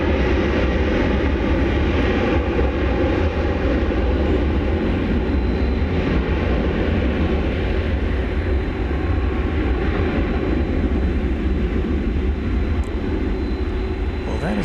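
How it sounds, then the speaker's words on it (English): An Iberia jet airliner takes off at night at DFW Airport, its engines producing a steady, heavy roar that fills the whole stretch at full strength without fading. "Well, that is definitely making all the noise that the Frontier A321neo green plane did not."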